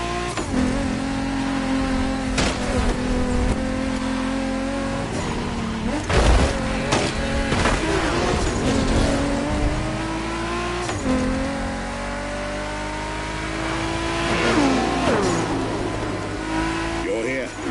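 Ferrari F50 engine in The Crew Motorfest on PS5, revving up through repeated gear changes with rising and falling pitch and some tire noise, loud and close, while voices talk over it.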